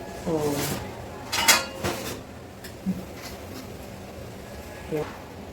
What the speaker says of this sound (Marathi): आता ताट ठेवणार त्याच्यावर, ताटावर थोडंसं पाणी ठेवतो